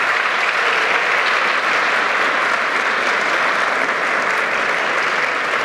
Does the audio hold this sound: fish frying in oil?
no